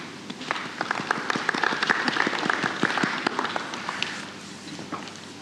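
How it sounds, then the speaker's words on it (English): A round of applause for Ruth from a seated audience at a coaching talk, moderately loud and fairly brief, with individual claps crackling through the steady wash before it begins to thin out. "Very quiet round of applause"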